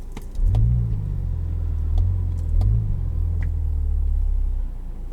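A 2017 Mini Countryman S with manual transmission accelerates, its engine note rising in two pulling surges before settling into a steady, loud mid-pitched drone.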